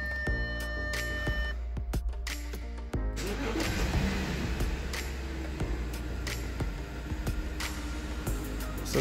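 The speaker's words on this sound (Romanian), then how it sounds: "Cum putem să pornim mașina." An Audi A6 C6 3.0 TFSI engine turns over and catches, then settles into a steady idle, with a few short electronic beeps heard near the start.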